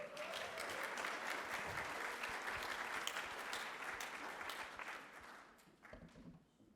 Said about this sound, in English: Big round of applause, please, for Cindy.